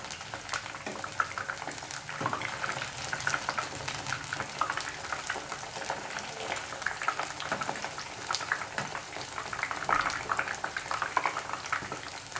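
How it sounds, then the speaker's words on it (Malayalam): Coated paneer pieces turned and frying in hot oil for paneer 65: a steady, dense crackling sizzle close by, continuous throughout with small pops scattered through it. "ഇത് തിരിച്ചു മറിച്ചിട്ടിട്ട് നമുക്കൊന്ന് ഫ്രൈ ചെയ്തെടുക്കാം."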